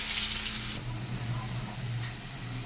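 Cut potatoes drop into hot oil tempered with turmeric, cumin seeds, bay leaf and a dried chili, bursting into a loud hiss that settles into a steady, close sizzle with faint background hum.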